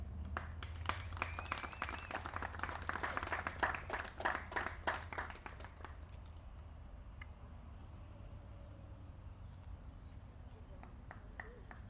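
Audience applause at an outdoor veterans banner ceremony in Mashpee, a burst of hand clapping for about six seconds that then fades into quiet ambient noise.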